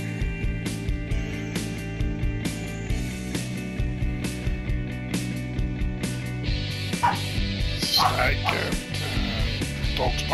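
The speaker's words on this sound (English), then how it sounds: "Dog's barking" A dog barks and yips repeatedly in short bursts amid a busy pool hall, under an ongoing bed of other noise.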